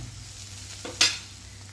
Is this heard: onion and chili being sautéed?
yes